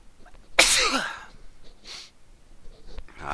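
A single loud sneeze from a man with a cold, preceded by a sharp intake of breath and followed by breathy exhales, close to the microphone.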